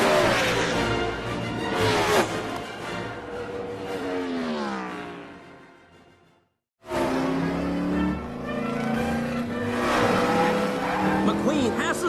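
Animated race cars roar around a track in a movie race, loud revving engines and passing whooshes with pitch sweeps, a brief silent gap midway, then more engine roar under excited commentary.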